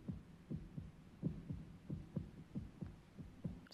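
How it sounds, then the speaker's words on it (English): A heartbeat sound effect from the film Monty Python's Life of Brian, about a dozen deep, steady thumps in a regular rhythm, fairly quiet, with no voices over it. "We're not gonna talk about that heartbeat sound that just stopped?"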